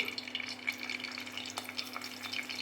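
Curry leaves fry in hot oil in a pan, a faint, soft crackling sizzle with small pops over a low steady hum.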